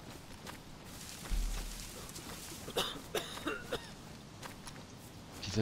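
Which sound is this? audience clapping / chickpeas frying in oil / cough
cough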